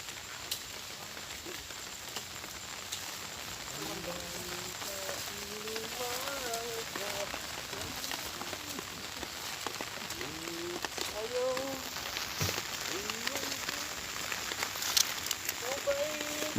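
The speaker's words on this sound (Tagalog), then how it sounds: "Nakikita nyo, kahit malakas ang ulan," Heavy rain pours steadily onto a surface in a dense, continuous hiss in the countryside during sugarcane cutting and hauling, with voices talking faintly beneath the downpour.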